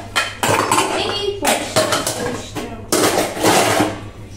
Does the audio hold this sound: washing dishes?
yes